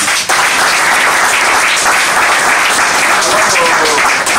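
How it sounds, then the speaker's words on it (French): Loud, sustained applause from a large crowd at a political gathering in the DRC, the audience clapping for themselves in a dense, steady roar for the whole stretch. "Est-ce que vous pouvez vous applaudir d'abord pour vous?"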